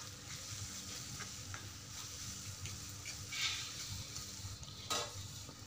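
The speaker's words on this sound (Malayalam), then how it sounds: "അതിലേക്ക് നമുക്ക് ഇഞ്ചിൻ്റെയും വെളുത്തുള്ളിയുടെയും പേസ്റ്റ് ഉണ്ടല്ലോ അത് ഇട്ട് കൊടുക്കുക എന്നിട്ട് അതിൻ്റെ സ്മെല്ല് മാറുന്ന വരെ ഒന്ന് ഇളക്കി കൊടുക്കണം" Ginger-garlic paste sizzles with onions in a pan while being stirred, a soft steady frying hiss with occasional scrapes of the spoon, faint and continuous.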